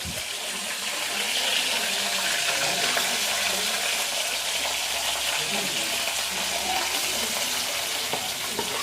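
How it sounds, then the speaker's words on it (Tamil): Boiled meat fries in oil for a Batticaloa-style meat devil, giving a steady, dense, loud sizzle that runs unbroken throughout. "அவிச்ச இறைச்சி எடுத்து என்ன பொறிக்க போகிறோம்"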